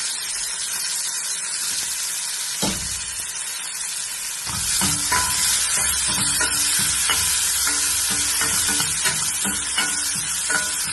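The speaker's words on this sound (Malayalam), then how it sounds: "അത് നല്ല എണ്ണ ചൂടാകുമ്പോൾ കടുക് വേഗം പൊട്ടി വരും" Mustard seeds splutter in hot oil for cherupayar upperi, starting as a soft sizzle that suddenly bursts into loud, crackling pops and a sustained close hiss with scattered stirring clatters.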